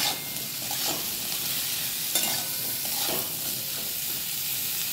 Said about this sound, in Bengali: এবারে ভালো করে ভাজার পালা।